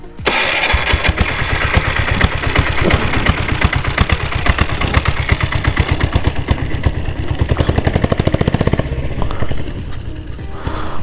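A diesel-converted Bullet motorcycle, a 7.5 HP engine fitted with a turbo, running loud and close with a fast, steady thumping beat that briefly quickens and smooths before settling back.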